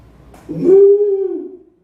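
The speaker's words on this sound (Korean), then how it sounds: "누구 소리예요? 소소리예요." A single cow moo, loud and close, rising into a sustained tonal low that slowly falls away over about a second, heard alone with no talk.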